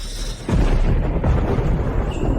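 A sudden loud crack of thunder from a lightning strike bursts in and rolls on as a heavy, deep rumble, alone with no voices.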